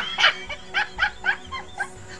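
A dog in a household gives a series of about six short barks in quick succession, fairly close and moderately loud, with no talk over them.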